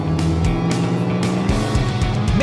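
Racing trucks roar through a race with loud, steady engine drone and shifting revving pitches, continuous and close throughout.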